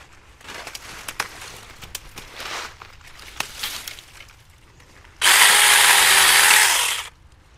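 A battery-powered mini chainsaw motor whirs loudly for about two seconds near the end, after some quiet handling clicks and knocks.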